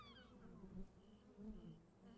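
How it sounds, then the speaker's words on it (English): A low, steady insect buzz like bees droning in the game Paradise Killer, swelling twice and holding under a faint musical background. "I swear to God, I just heard bees."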